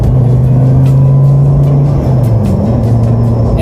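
A Dodge Viper GTS V10 engine roars loud and close, a steady heavy drone that surges slightly as it pulls hard, with no voices over it.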